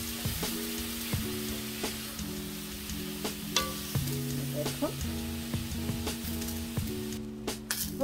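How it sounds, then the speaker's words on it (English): Taco meat sizzling steadily in a hot pan, a continuous close frying hiss with occasional pops and spatters throughout, while a tonal background hum or music runs underneath. "my meat is starting to cook"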